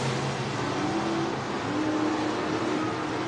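Stock car engines at Buena Vista Raceway roar steadily as cars drive deep into the turns, a continuous loud, dense race-car drone with rising and falling engine notes.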